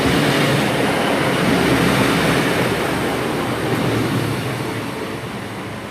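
A Gloucester-bound passenger train runs through Bristol Parkway station with a steady, loud wash of wheel and rail noise that eases slightly as it passes, no voices present.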